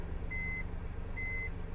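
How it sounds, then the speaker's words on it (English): Reversing beeper of a 2013 Honda N Box Custom Turbo SS Package sounding two short, evenly spaced electronic beeps over a low steady engine hum. "the customary beep when it's in reverse"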